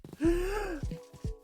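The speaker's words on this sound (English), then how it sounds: "Dramatic gasp." A person lets out one drawn-out dramatic gasp, loud and close with a rising, wailing tone, followed by a few short breathy vocal sounds.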